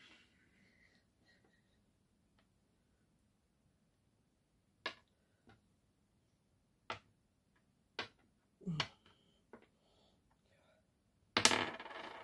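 A single die rolling on a board during a game of Mens-erger-je-niet, heard as a few sharp, separate clatters and knocks scattered across otherwise quiet, with a louder rattling burst at the end.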